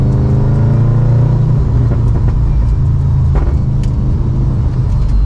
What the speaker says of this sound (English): A little bit of backfire.